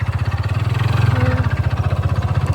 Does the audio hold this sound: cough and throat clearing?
no